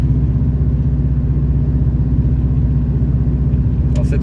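A red anniversary-edition Subaru Impreza WRX engine drones steadily under load while driving, a low, continuous rumble with an even throb, close and loud, with a brief scrape of other noise near the end.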